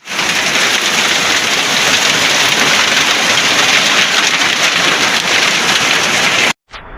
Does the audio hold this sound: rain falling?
yes